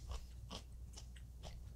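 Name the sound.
chewing ginger during a Japanese food mukbang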